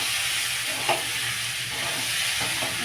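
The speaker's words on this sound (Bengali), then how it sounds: "এই ডুমুরটা এখন কষানো হচ্ছে।" Figs (dumur) sauté with potatoes and prawns in a pan, a continuous close frying sizzle with a couple of brief scraping stirs.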